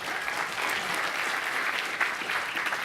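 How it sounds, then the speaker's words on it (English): Conference audience at the C3 Conference applauding for Nicole, a steady wash of many hands clapping in a large room, sustained and even throughout. "Round of applause for Nicole for volunteering to do this today."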